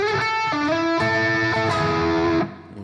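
A distorted electric guitar plays the second bar of a shred riff slowly, sounding a short run of sustained, ringing notes up close before the sound drops away at the end.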